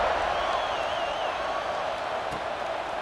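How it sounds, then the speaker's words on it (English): Football stadium crowd buzzing after a score, a steady broad roar of many voices with a faint whistle-like tone drifting above, continuous and even throughout. "this crowd is buzzing after that last score"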